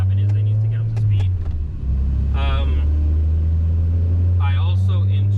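A 1997 Mazda Miata drives through traffic with a steady low engine drone that dips briefly as it shifts, while a person talks over it.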